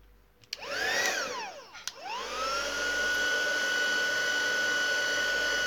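A handheld dryer blows on a craft fairy bauble, its motor whirring up twice in quick sweeps before settling into a loud, steady, close-up drone.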